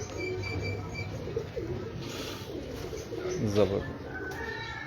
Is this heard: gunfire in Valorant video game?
no